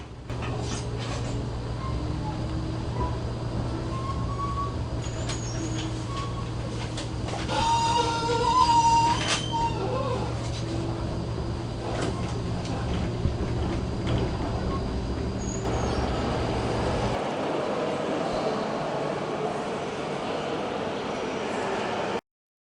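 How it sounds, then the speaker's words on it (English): Trains sound at St. Peter's Station in Ghent, a continuous low rumble with squealing brakes and mechanical clanks partway through, then a quieter, steady hum with an airy hiss of station ambience toward the end. "I went back to St. Peter's Station to get a better look and do some train spotting."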